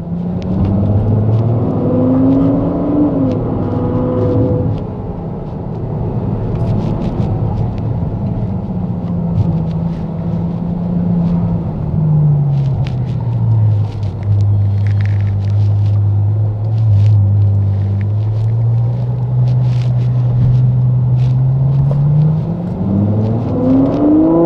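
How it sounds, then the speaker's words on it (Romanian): A Ferrari FF's V12 engine revs up and down for about twenty-five seconds, its pitch climbing, dropping and swelling again, loud and close with a deep rumbling drone. "Încântător de V12."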